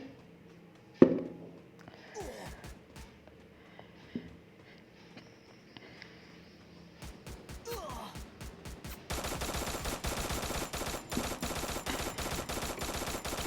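Gunfire in the Free Fire video game: scattered sharp shots at first, then a quick string of reports leading into a dense, sustained burst of automatic fire that continues to the end.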